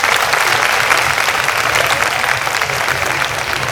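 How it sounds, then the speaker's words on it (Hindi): Loud, dense audience applause at a live Easter stage event in Hindi, sustained and even from start to finish with no voices over it. "जोरदार तालियों को बजाएं।"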